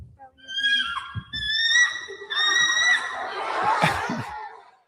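A man imitates a bald eagle call with his voice, a run of high, piercing, wavering shrieks and whinny-like cries that turn into breathy, rough screeching, loud and close over about five seconds.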